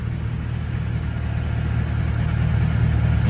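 A 2014 Toyota Tundra 4x4 idles steadily in four-high as it is shifted from park into drive, a low, even engine hum with a slight rise toward the end.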